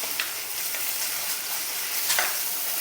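Ginger garlic paste and green chillies sauté in a pan, a steady soft sizzle with a few scraping stirs, close and fairly quiet with no talk.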